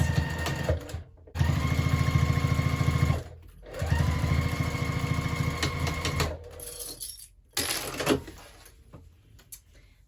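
A sewing machine stitching a zipper pouch runs low on bobbin thread in rapid bursts, whirring steadily for a couple of seconds, pausing, then starting again with a few clicks.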